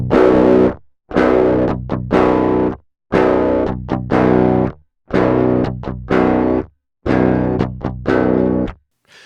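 Distorted electric guitar through a drive pedal on a tight modern metal tone, cycling through low cut settings: about seven loud bursts of chugging chords, each separated by a short silence, with no voices.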